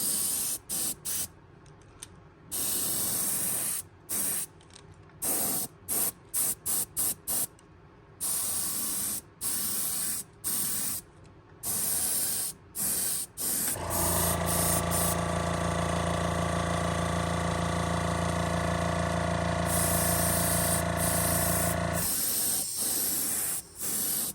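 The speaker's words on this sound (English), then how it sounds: "we're just going to lightly spray it over it" Spray can of chrome paint hissing onto a fishing lure in repeated short bursts, then one long continuous spray, close and loud.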